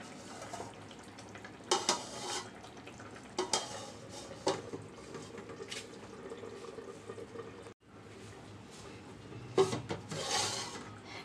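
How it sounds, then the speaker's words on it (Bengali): Dried ribbonfish and mixed vegetables cook on low heat in a pan, a quiet simmering hiss under repeated scraping and stirring strokes of a utensil against the pan, no voices. "একদম ছোট আঁচের মধ্যে আমি 2 মিনিট রাখবো।"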